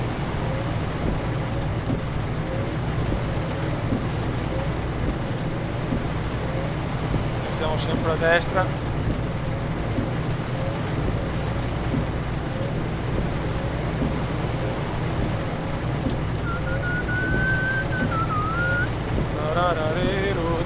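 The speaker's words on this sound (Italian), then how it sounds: "Ora si doveva piovere, io odio quella pioggia perché veramente il camion è ingovernabile." Steady rain in Euro Truck Simulator 2 hisses continuously over a truck's engine rumble from inside the cab, with a voice speaking briefly partway through.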